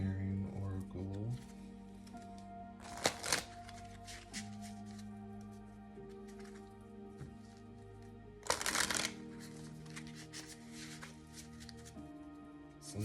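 Lemurian oracle cards being shuffled by hand, two loud riffling bursts standing out over a steady bed of soft background music, with quieter card handling between them.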